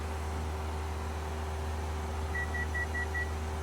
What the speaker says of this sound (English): we're going to hear a beep on our autopilot